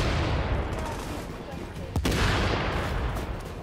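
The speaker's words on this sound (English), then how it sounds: "I've never seen so many grenades going off" Many grenades exploding in a video game, a dense rumbling barrage of booms with one sharp blast standing out near the middle.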